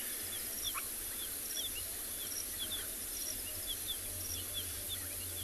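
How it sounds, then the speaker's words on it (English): Distant emerald-spotted wood dove calls sound at a sunset safari, faint and sparse against a dense bed of insect chirps, frog calls and steady hiss, with no talking. "You can hear the odd emerald-spotted wood dove."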